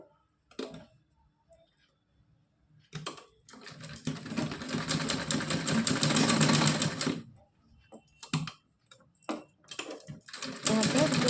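Electric sewing machine stitching a cotton night dress for a Laddu Gopal idol, running in a long steady burst of rapid needle chatter, then shorter stop-start runs, close and loud, with a few soft handling clicks between.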